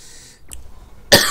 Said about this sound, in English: And I cough when I say that.